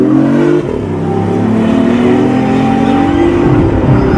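A car on a racing track at a Formula E event, heard from inside during a fast lap. Its engine holds a loud, steady, close drone whose pitch rises and falls slightly as it revs.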